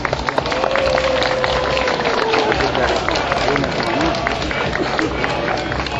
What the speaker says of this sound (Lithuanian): taigi plojimai Palangos tremtiniams